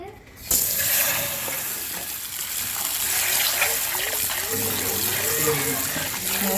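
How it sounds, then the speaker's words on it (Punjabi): A hot brass pot is dunked in cold water: splashing and gushing after a short quiet start, continuing as a steady churning rush with faint tonal ringing and a voice in the background. "ਹੁਣ ਆਪਾਂ ਠੰਡੇ ਪਾਣੀ 'ਚ ਡੁਬਾਉਣੇ ਆ"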